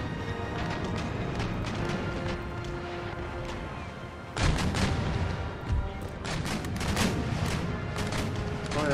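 Naval cannon broadsides from sailing warships in Empire: Total War, a dense, continuous rumble of gunfire with heavy booms swelling near the middle and a steady battle din throughout, no talk.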